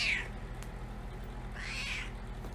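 A clingy female house cat meows twice, a short cry at the start and a longer one around the middle, both close and fairly loud over a steady low room hum.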